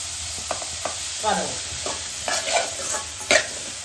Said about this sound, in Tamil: இப்போ கேப்சிகம், பீன்ஸு, கேரட், இது மூணுமே வெங்காயம் கூட நல்லா வதங்கட்டும்.